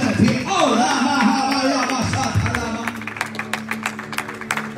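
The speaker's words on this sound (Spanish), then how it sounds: "Dale un fuerte aplauso al Señor en esta tarde" A church congregation claps, starting under a voice and turning into a sparse run of individual claps at the end, close and moderately loud.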